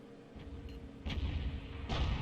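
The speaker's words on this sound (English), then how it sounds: "enemy Arty at the moment is focusing on the Object 279E on our team" Distant artillery fire booms in World of Tanks, with two deep, muffled blasts a second apart over a low battle rumble.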